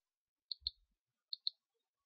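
Computer mouse clicking during 3D modeling work on a Cessna with propeller: two pairs of crisp, close clicks, a double click and then another double click, alone in a quiet room.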